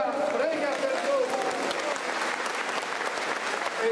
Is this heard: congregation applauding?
yes